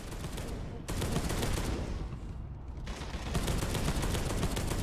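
Rapid turret gunfire in the video game Space Hulk: Deathwing, a dense, continuous rattle of shots that briefly thins and then resumes, loud and close with no voices.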